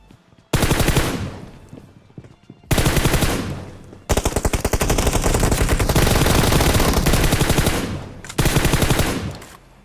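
Automatic rifle fire from the PUBG video game: loud, close bursts of rapid shots, the first two short and the last a long sustained stream, separated by brief pauses.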